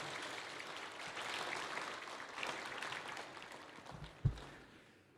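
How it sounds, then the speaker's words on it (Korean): A Korean church congregation applauds to welcome the pastor to the pulpit. The clapping is soft and distant, slowly fades, and ends with one dull thump near the close. "하나님께 영광의 박수로, 또 우리 목사님께 격려하는 박수로 모시도록 하겠습니다"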